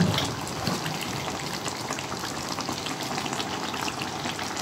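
Tadka sizzles steadily and loudly in a pan as it tempers beef karahi masala, a dense continuous crackle and hiss throughout with no talk.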